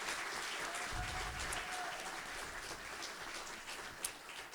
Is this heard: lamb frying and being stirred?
no